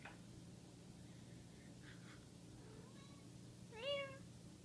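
A cat meows softly several times, small chirps building to one clearer, drawn-out meow near the end, close by but quiet over a low room hum.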